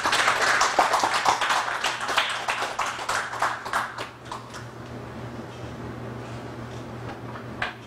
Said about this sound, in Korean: 우리 박수로 환영해 주시다.